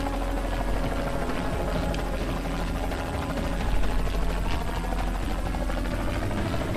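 A helicopter flying in the Renegade Ops video game, a steady loud rotor and engine drone with a continuous low chopping throb, close and unbroken throughout with no speech.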